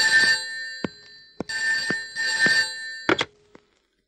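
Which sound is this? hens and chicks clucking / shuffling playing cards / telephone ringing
telephone ringing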